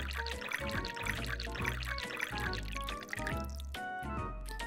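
Red tomato juice poured into a glass, trickling and splashing steadily for several seconds up close, with a dense, bubbly liquid wash over the whole stretch.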